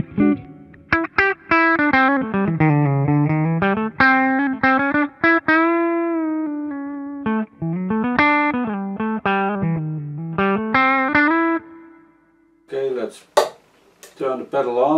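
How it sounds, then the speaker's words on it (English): Electric guitar phrases with bending, sliding notes and a wet reverb wash, playing a meandering melodic line that trails off into scratchy strums. "A little bit of reverb."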